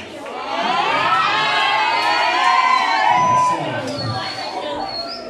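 A crowd cheers, whoops and shouts at a quinceañera party with a mariachi band, high children's voices mixed in. The sound is loud, sustained and close, easing slightly toward the end.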